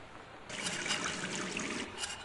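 Water running from a tap in the video game Going Home, a steady broadband trickle and splash that starts abruptly after a short quiet lead-in and carries on at moderate level with no talking.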